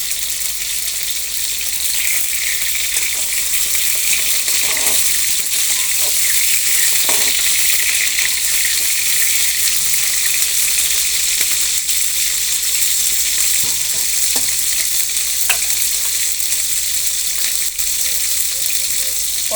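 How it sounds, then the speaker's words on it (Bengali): Pointed gourd (potol) fries in a pan for potol posto, giving a loud, steady close-up sizzle that runs throughout, with a few small clicks and pops and no voices. "পটলটা আমার ফ্রাই হচ্ছে।"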